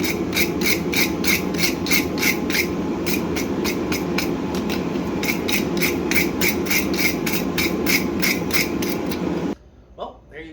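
Steel being scraped to remove scale, a steady loud rasping with regular rhythmic strokes that run for about nine seconds and then stop abruptly.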